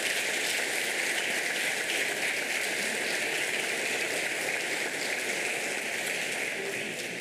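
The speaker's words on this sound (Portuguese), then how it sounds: "palmas para esses brilhantes servidores públicos" Audience at a formal ceremony in a Brazilian municipal chamber claps in a dense, hissing wash, loud and steady throughout, with a constant hum underneath and no speech.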